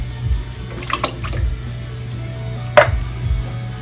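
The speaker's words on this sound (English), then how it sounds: "then I'm going to add the peaches with the juice" Canned peach halves with their juice tipped from a can into melted butter and sugar in a pan, giving soft wet plops, sloshing and a few clunks against the can and pan.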